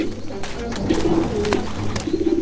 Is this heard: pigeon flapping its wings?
yes